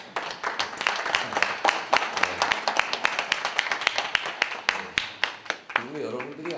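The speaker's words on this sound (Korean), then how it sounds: "박수 인사." Scattered hand clapping from a small crowd at a museum exhibition opening for donated artifacts, uneven and lively, with a voice speaking over the end.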